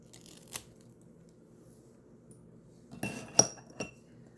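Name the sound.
cutting along the side of a package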